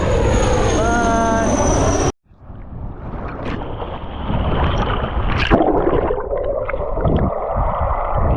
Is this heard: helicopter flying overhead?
yes